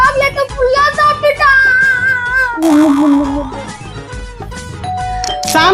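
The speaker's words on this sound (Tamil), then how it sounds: "காலிங் பெல் பாரு எவ்வளவு நேரமா அடிச்சிட்டு இருக்குது" A household doorbell rings insistently, a loud run of repeated melodic chime tones over a busy background.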